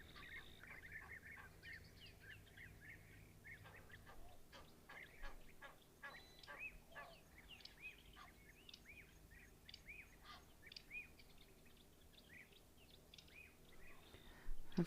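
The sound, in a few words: black-backed puffback calling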